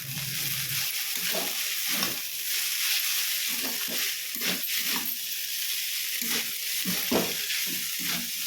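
Potatoes fry in oil in a wok, a continuous close sizzle with repeated scraping stirs throughout.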